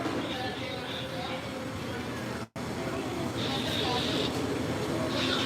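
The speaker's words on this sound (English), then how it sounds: "But that's the front of the train." Kennywood Park amusement park train rolls along with a dense, continuous rattling rumble and hiss, up close, with a brief dropout midway and faint voices in the background.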